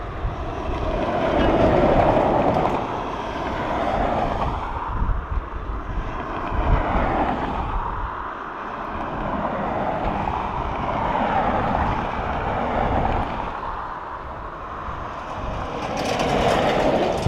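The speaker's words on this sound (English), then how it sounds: "Smooth as you like from the ATR." An ATR turboprop lands at Dublin Airport, a broad, steady engine roar with rumble that holds for the whole stretch, swelling slightly at moments, with no voices.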